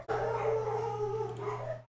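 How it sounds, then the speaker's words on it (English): Dogs howl in one long, sustained wail of about two seconds, loud and close, over a steady low electrical hum. "Sorry about the dogs."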